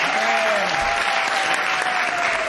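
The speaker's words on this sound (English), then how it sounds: "And give yourselves a round of applause for coming out tonight." A comedy show audience applauds, loud and dense clapping filling the whole stretch with a faint voice carrying through.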